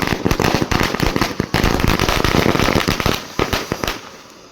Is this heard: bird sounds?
no